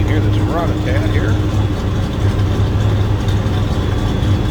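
A 1966 Chevrolet Chevelle SS 396 V8 runs steadily from behind the car with a deep, loud, even rumble, and a voice speaks briefly over it near the start.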